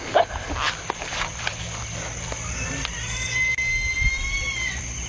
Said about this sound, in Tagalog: Bigla namang nagsipagtahulan yung mga aso